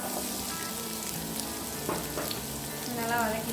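Onion and black pepper frying in hot oil for a South Indian onion thuvayal, a steady broadband sizzle with faint clinks, with a brief bright tonal chime near the end.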